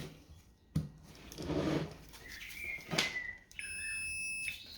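A multimeter set to continuity gives a steady electronic beep near the end, after a few clicks and handling noises of probes being placed.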